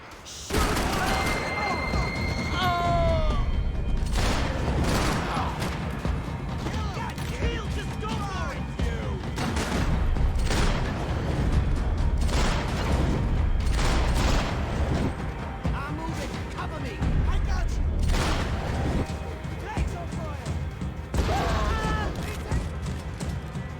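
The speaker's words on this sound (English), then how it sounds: "Gunfire over Hoboken." Dense bursts of gunfire and booming explosions from the game Max Payne 3 crash repeatedly over a steady game-like din, loud and continuous throughout.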